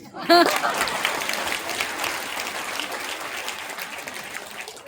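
An audience at a Hindu gathering in Loni breaks into steady, dense applause, many hands clapping continuously at moderate loudness for several seconds without a pause.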